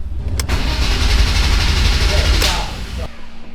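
A BMW engine cranks steadily with the starter during a compression test, a loud continuous whirring churn for about two and a half seconds that then stops.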